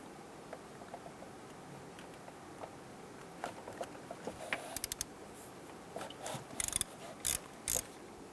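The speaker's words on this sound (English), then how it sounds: "Use your 10mm socket." A 1/4-inch ratchet with a 10mm socket turning exhaust manifold bolts on a 1999-2004 Jeep Grand Cherokee 4.7L V8, faint clicking pawl bursts and a few sharper metallic clacks toward the end, alone in a quiet space.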